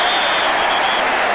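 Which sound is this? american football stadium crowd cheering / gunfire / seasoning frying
american football stadium crowd cheering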